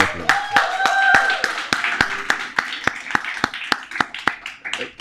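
An audience at a festival applauds its founder, Marshall, with a run of sharp, evenly spaced claps. A murmur of voices and a faint tone sit underneath.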